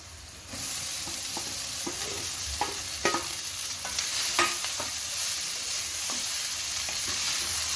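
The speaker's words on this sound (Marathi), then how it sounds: "आता आपण यात भिजलेल्या कुरडया ह्या टाकणार आहोत." Soaked kurdai stir-fried with onions in a pan gives a continuous loud sizzle, with repeated scraping and tapping from a spatula as it is tossed. No one speaks.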